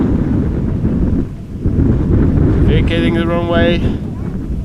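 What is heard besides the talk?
strong crosswind buffeting the camera at an airport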